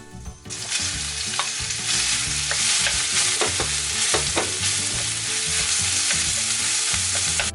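Minced pork hisses and sizzles loudly in a hot pot with ginger and oil, with repeated scraping and clacking of a spatula stirring it, close-up and continuous.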